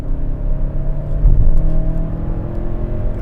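A new Hyundai Santa Fe's engine revs up under overtaking acceleration to about 4,500 rpm, a loud close rumble that swells and holds steady with a whirring drone, heard from inside the vehicle.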